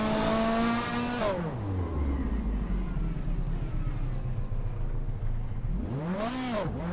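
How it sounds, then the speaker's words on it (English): A 1987 Chevrolet Corvette IMSA GTO race car in a racing video game, its engine revving high, dropping into a steady low drone, then rising again in a swooping rev near the end. "Martif Wu is driving a 1987 Chevrolet Corvette Imsa GTO"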